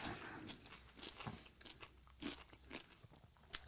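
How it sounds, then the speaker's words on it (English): Crunchy bites into a spicy pickle, close and fairly quiet, with repeated crisp crunches and chewing and no talking. "Hear that crunch."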